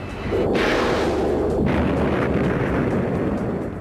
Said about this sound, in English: the #1 weapon of choice of an A-10 pilot is going to be their gun